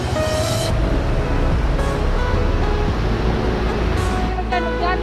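A clean river flows past a village at the forest edge near rice fields, making a loud, continuous rushing wash up close, with no talk over it.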